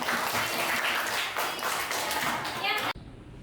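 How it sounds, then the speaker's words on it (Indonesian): Students in a classroom clap their hands together in a dense, continuous burst, with children's voices mixed in, ending abruptly into a quieter room. "coba tepuk tangannya"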